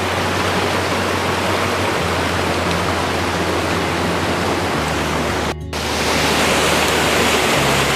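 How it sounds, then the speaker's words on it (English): Steady roar of a waterfall at a campsite, a dense broadband rush filling the scene, continuous and fairly loud with a brief dip near the end. "So around that corner is the waterfall at the campsite."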